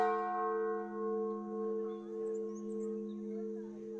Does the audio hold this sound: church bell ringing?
yes